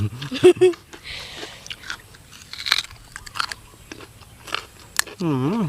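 Crunchy bites and chewing on spicy pounded cuttlefish tentacle salad with fermented fish sauce, close and repeated, mixed with talking throughout.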